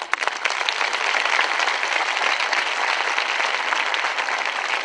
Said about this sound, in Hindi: खड़े हो जाओ, ताली बजाओ इनके लिए।